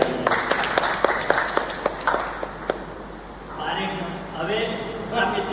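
An audience at a senior citizens' society oath-taking gathering in Nadiad gives a round of steady hand-clapping to welcome six newly joined couples; the claps fade as a voice takes over speaking.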